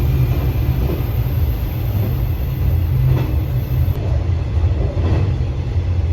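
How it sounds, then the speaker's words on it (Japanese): A JR Etsumi-Hoku Line train runs at speed near Fukui on well-aligned former Hokuriku Main Line track, giving a loud, continuous rolling rumble with faint rail clatter and no voices. "越美北線の列車も速度を上げて運転されています"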